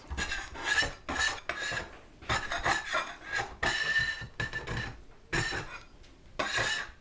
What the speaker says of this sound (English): Now I'm flattening the back side of one of the offcuts so I can make those end pieces.